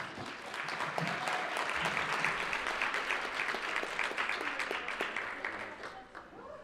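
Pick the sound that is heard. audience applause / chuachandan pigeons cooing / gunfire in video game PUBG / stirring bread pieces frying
audience applause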